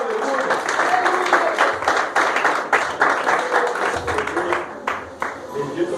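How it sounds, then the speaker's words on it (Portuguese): A church congregation claps steadily in a large room, the dense patter of many hands continuing throughout with voices mixed in. "Aplauda o nome do Senhor, por favor."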